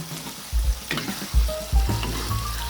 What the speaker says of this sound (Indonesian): Aduk hingga telur tercampur rata dengan bumbu.